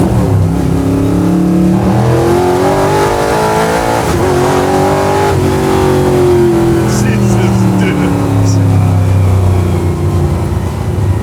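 A 355 ci V8 Chevy Chevelle engine revs and accelerates hard with no-lift shifts, its pitch climbing then falling through gear changes, loud and close throughout, with voices faintly underneath.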